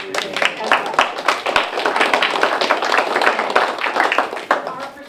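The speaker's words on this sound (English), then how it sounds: "I think this LPC deserves a round of applause" Applause from attendees at a public village meeting in Cornwall, New York, a dense run of many hands clapping at close range, sustained and fairly loud for several seconds, with some murmuring voices mixed underneath.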